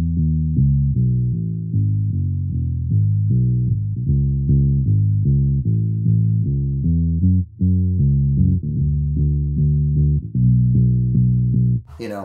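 A Hofner Beatle bass plays a steady walking line of round, thumpy low notes, loud and close, for about twelve seconds with no voices.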